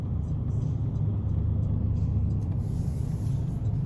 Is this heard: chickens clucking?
no